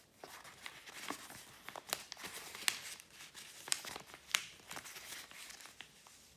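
Paper crinkles and creases as the wing of a folded paper airplane is opened, turned and folded, a series of soft, close crackles and sharp little crunches with no speech.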